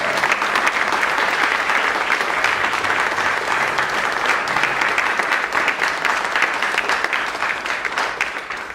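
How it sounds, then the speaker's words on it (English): Sustained, loud audience applause fills the hall at a university percussion ensemble concert, honoring a music-department donor; dense, steady clapping continues throughout without a break. "So I'd like to just welcome a round of applause for Richard Wells."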